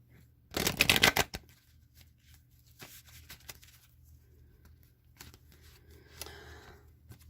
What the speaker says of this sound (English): Now I'm going to shuffle the wisdom of the oracle 3 times